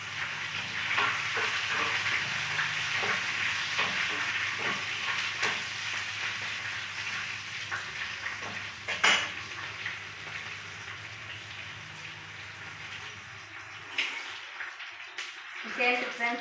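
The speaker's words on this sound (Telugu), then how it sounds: "ఇదండి ఆనియన్స్ కొన్ని ఉంచుకున్నాను, కొన్ని వేసాను తాలింపులో." Onions frying in tempering oil for a lentil stew, a continuous loud sizzle with occasional stirring clatters and pops, while someone talks over it.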